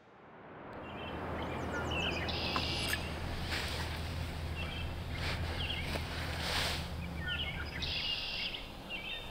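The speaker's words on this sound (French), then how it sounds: "Il n'y a pas un bruit, on entend juste les oiseaux." Birds singing in the Vermont mountains on a late-March morning. Faint, distant chirps and short trills sit over a soft, steady outdoor hiss, with no voices.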